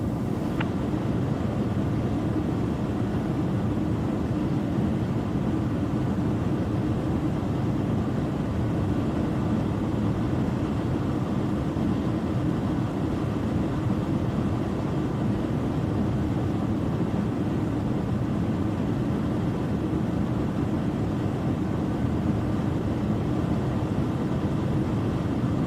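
Cabin drone of an Air Canada Airbus A320 in flight from Toronto Pearson to Orlando, a steady, loud, unchanging low engine roar and airflow hiss filling the whole stretch, with no voices.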